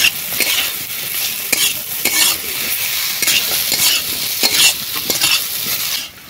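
Koi fish and taro stems stir-fried with chilli and turmeric powder in a pan, a steady loud sizzle broken by repeated scraping strokes of a spatula, with no voices.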